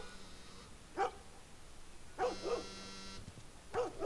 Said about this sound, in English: Sounds like we might have a dog.